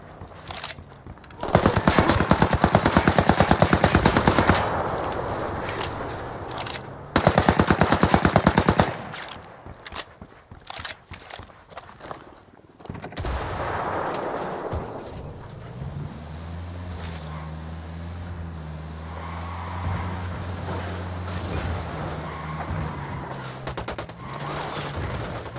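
Bursts of automatic gunfire in Ghost Recon Wildlands, loud and sustained rattling volleys in two long stretches, then quieter scattered shots under a low engine-like drone.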